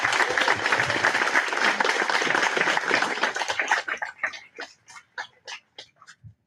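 A naturalization ceremony audience in Greeley bursts into full, dense applause that holds for several seconds, then thins into scattered individual claps that trail off near the end.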